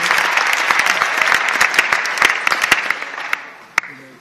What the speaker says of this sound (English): Let's give President Houghton a round of applause for being our special guest this evening